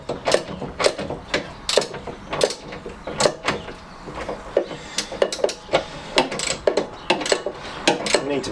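A socket wrench ratchets while a classic Fiat 500 engine is refitted, a loud, close run of rhythmic metallic clicks and ratcheting strokes repeating throughout, with occasional knocks of metal.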